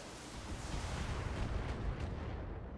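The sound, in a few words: mech weapons firing, from the video game BattleTech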